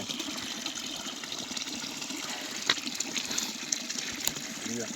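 Water from a spring at the entrance to Kozağaç village on the first stage of the Lycian Way runs in a steady, close gushing flow, with a few faint knocks and light sounds over it.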